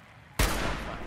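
A single sharp, loud gunshot from a firearm in Fallout 4 cracks out abruptly after a quiet moment and trails off into a ringing decay.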